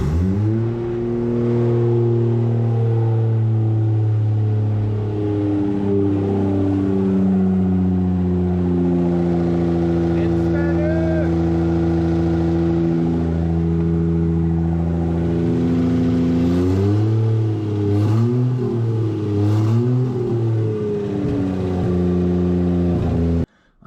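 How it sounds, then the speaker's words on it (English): A Lexus IS200 with a twin turbo conversion starts and then runs for a long stretch, with a loud, steady engine tone and rising and falling revs partway through, no voices heard. "the engine now fires up every time and with ease"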